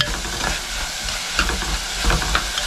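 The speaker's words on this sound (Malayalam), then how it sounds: "നമ്മള് ഉള്ളിയും പച്ചമുളകും എല്ലാം കൂടിയിട്ട് വഴറ്റിയെടുത്തിരിക്കണം" Onion and green chili sauté in a clay pot with a loud, continuous sizzle and crackle, broken by repeated scraping stirs close by; nobody speaks.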